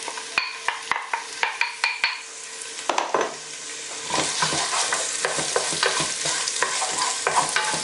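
Whole spices crackle in hot oil with sharp taps of a spoon against the pan, then onions hit the oil and a broad, steady sizzle takes over beneath continued stirring, close up and without speech.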